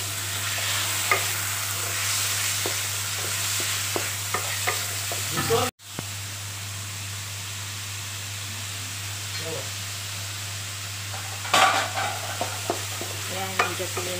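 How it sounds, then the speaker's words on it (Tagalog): Chicken breast stir-fried in a pan with jalapeño chili, a steady loud sizzle under repeated scraping and stirring strokes, with a brief cut partway through. "Hinalo ko na rin sa chicken. Fried."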